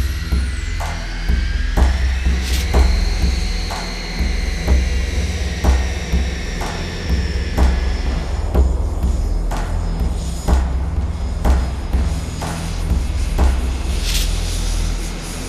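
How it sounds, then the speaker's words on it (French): French Rafale and American F-15 and F-16 fighter jets in a mock dogfight, a loud steady jet engine roar with shifting whine, heard throughout without talk. "les Rafales français affrontent les F-15 et F-16 américains dans un combat certes amical,"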